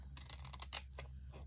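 Scissors snip through a cut-out paper doll, a few quiet, crisp clipping strokes in a hushed room with no talking.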